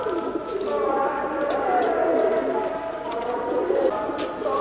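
Rajan-breed racing pigeons coo steadily and close by, with a continuous murmur of birds throughout.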